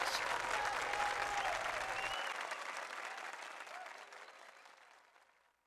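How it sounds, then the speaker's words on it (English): Audience applause at a Chuck E. Cheese restaurant after a singer's turn, a dense wash of clapping and crowd noise, loud at first and slowly fading away over several seconds. "Big round of applause, everybody!"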